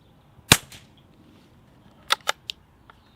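A suppressed .22lr bolt-action rifle with a 16-inch barrel and a Bowers Bitty silencer fires one sharp, short crack, followed later by a few quick metallic clicks of the bolt being worked, all close and without talk.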